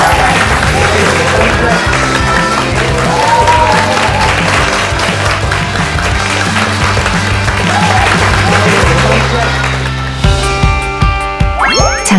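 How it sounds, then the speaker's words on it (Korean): Audience applause in a hall after a three-hour lecture, loud and sustained, mixed with music and voices, tapering off near the end. "박수 한번 부탁드리겠습니다."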